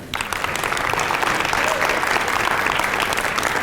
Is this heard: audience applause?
yes